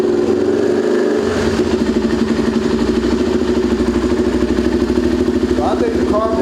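A 2004 Yamaha TT-R 250 dirt bike, choked and with a recovering carburetor, runs close by with a steady, slightly uneven idle and a blip of revving, while someone talks over it.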